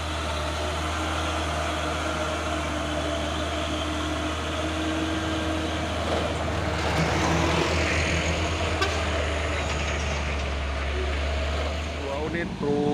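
Two CPO tanker trucks, a Fuso and a 6x4 HD, drive past with a steady, loud diesel drone and deep low rumble, sustained throughout with a slight swell midway.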